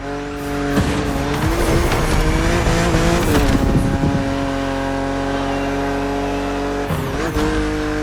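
A BMW Z4 E89 roadster is driven hard in The Crew Motorfest, its engine droning loudly and steadily while tires squeal and skid through corners, with several sharp bursts of screeching along the way.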